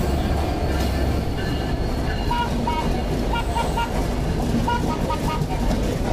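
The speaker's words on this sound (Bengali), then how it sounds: "বেনাপোল এক্সপ্রেস ট্রেন কুষ্টিয়া স্টেশনে প্রবেশ করছে।" Benapole Express, hauled by a 6600 series locomotive, rolls into Kushtia station in Bangladesh with a loud, continuous rumble and rhythmic wheel clatter close by, carrying on throughout.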